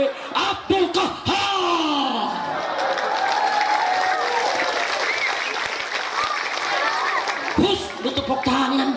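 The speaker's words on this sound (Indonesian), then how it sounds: "Tepuk tangan." Applause from a large crowd at a religious sermon gathering, steady and loud throughout, with shouts and voices rising over it near the start and end.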